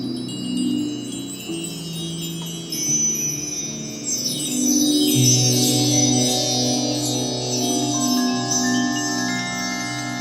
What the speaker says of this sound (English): more that coming back in, those chimes, those mallets